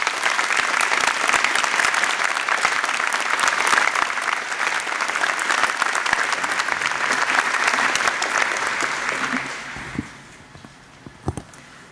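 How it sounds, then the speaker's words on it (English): Audience at a university convocation ceremony applauds an honorary degree recipient, sustained dense clapping that fades out near the end, leaving a few faint footsteps and knocks. "Please join me in giving Dr. Kaspi a round of applause of congratulations as she approaches the podium"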